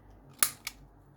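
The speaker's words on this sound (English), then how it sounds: "So I'm just cutting around the edge of the tag now to get my tag shape" Scissors snip twice around the edge of a paper Christmas gift tag made from festive craft paper, two short crisp cuts close by in a quiet room.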